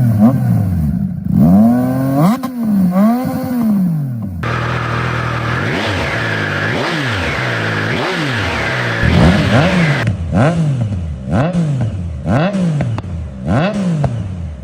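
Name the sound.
Triumph Tiger 800 triple motorcycle stock exhaust revving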